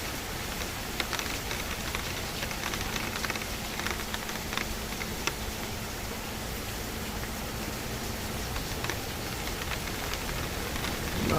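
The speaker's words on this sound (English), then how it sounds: "Especially when it rains and thunders." Steady rain pours down outdoors, a dense even hiss of drops on surfaces with scattered closer patters, continuous and fairly loud throughout with no voices.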